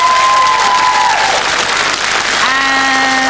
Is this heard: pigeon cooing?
no